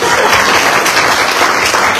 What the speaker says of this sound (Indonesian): Tunggu ada mau tepuk tangan, boleh tepuk tangan.